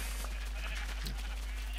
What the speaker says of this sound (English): And now we can go shearing all the sheep.